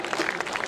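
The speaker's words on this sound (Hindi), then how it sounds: "एक बार आगे से पीछे तक सब लोग तालियां बजाओ" An audience at a Hindi poetry gathering claps in a brief, dense burst of steady applause.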